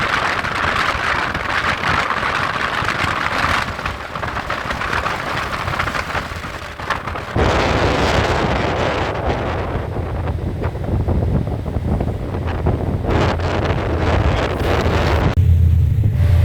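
Strong wind on a ship at sea buffets the microphone in a continuous roar, rising and falling in gusts, with a rough rumbling texture throughout.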